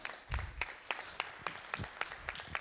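Audience at the Blue Tech Show inauguration applauds in welcome of a speaker: a brief, fairly soft round of clapping with distinct individual claps in a roughly steady rhythm, sounding like a small gathering in a hall.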